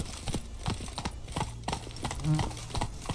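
Roach, a horse in The Witcher 3: Wild Hunt, gallops in a steady rhythmic clip-clop of hooves, loud and close, with a brief whinny and a voice speaking over the hoofbeats.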